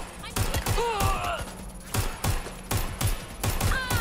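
Gunfire in the video game Watch Dogs Legion, set in London: repeated rapid bursts of shots and thuds in irregular clusters, with a player talking over the action.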